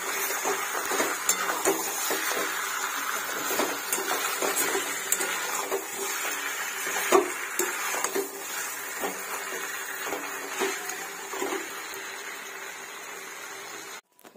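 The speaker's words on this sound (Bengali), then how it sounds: "আর এখানে মাংসটা কষতে দিয়েছি।" Mutton browning in a pot for a Bengali mutton curry, with a spoon scraping and clinking against the metal in irregular strokes over a soft background hiss, moderately close and fairly quiet.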